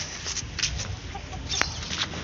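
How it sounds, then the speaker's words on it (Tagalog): Chickens cluck in short bursts nearby, a few soft calls scattered over a gentle outdoor background. "So ito yung manok ko guys."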